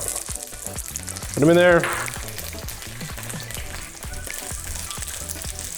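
Twenty whole garlic cloves frying in hot oil for stir-fried chicken gizzard, a steady crackling sizzle with stirring scrapes, briefly joined by a short spoken remark.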